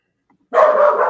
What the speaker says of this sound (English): I'm going to have to go whip this dog.